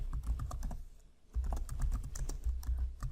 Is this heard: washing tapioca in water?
no